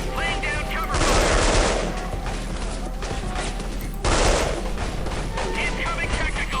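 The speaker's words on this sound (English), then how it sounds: "Laying down cover fire." Gunfire in the Delta Force: Black Hawk Down video game, with dense bursts of automatic fire in two loud volleys over a constant battle din.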